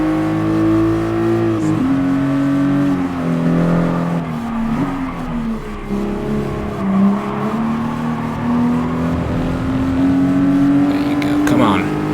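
A Toyota GR Supra RZ driven in Gran Turismo Sport, its engine droning steadily and shifting pitch through gear changes, with occasional tire squeal, loud and continuous beneath someone talking.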